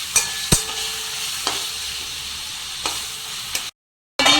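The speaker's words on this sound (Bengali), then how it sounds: "চিকেন কিমাগুলো ভালো করে কেটে নিয়েছিলাম ধুয়ে নিয়ে এরপর ওই তেলের মধ্যে দিয়ে দিলাম" Chicken mince sizzling in hot oil in a pan, a steady bright frying crackle broken by a few sharp knocks of a spoon stirring, then a brief silent gap before the sizzle returns.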